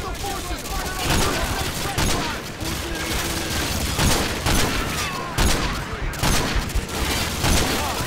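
Hostile gunfire in Call of Duty: Modern Warfare 2 rattles in dense, continuous bursts of rifle and machine-gun shots, loud and close, with shouted voices mixed into the battle.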